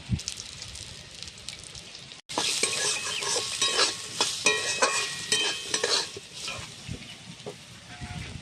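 Crab fries in a pan as salt and turmeric powder are stirred in: a loud, continuous sizzle with repeated scraping stirs close by, following a brief quieter start and a sharp cut.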